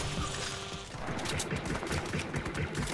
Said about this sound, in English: They seem to be shooting each other.